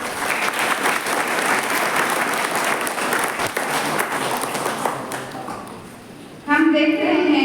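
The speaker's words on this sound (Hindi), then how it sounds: "इसके लिए हम सभी तालियां बजा दें।" A parish congregation at the Our Lady of the Rosary feast-day celebration bursts into sustained, dense applause that fades after about six seconds, then a voice starts speaking over a sharp microphone-like tone.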